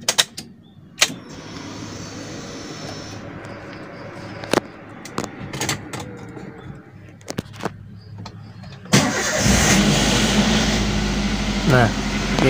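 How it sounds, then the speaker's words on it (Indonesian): A car engine is switched on: a few clicks and a low murmur come first, then the engine catches and settles into a loud, steady running rumble close by. "Kita nyalakan dulu mesinnya agar tahu"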